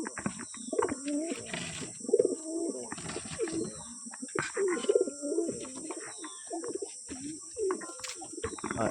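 Lotan pigeons coo in a loft, with repeated soft throaty cooing phrases in bursts across the clip, close by and fairly clear against a steady background hiss.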